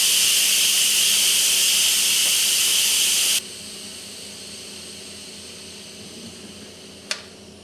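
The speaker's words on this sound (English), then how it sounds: "Let's turn the steam release handle to the vent position for a quick release" Steam vents from a pressure cooker on quick release in a loud, steady hiss that cuts off abruptly partway through, leaving a quieter residual hiss and one brief click.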